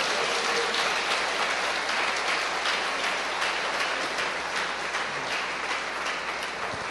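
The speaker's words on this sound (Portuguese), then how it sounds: "dê um aplauso poderoso ao Senhor nessa noite." A church congregation applauds during an evening service, sustained dense clapping from many hands that holds steady for several seconds, sounding full and a little distant, with no voices on top.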